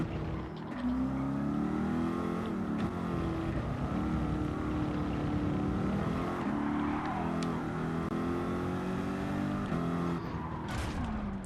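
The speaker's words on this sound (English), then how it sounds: "the Corvette sounds like a truck" A Corvette engine runs with a deep, rough, truck-like rumble that rises and falls in revs, loud and steady throughout with no talking.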